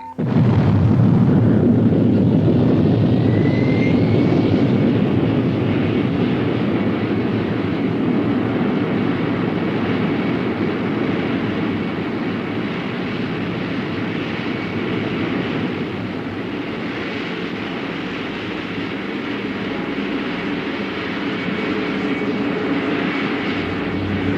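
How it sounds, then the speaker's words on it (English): Simulated rocket ignition and launch on the Disneyland Flight to the Moon ride: a sudden loud, deep roar that holds steady as a sustained rumbling drone for over twenty seconds, easing slightly over time, with no talking. "T-minus 5, 4, 3, 2, 1, ignition."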